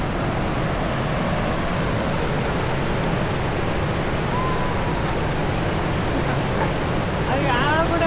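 A fast-flowing stream rushes steadily and loudly throughout, a dense continuous roar of water with no pauses, heard up close near the bank where fishing with nets is under way.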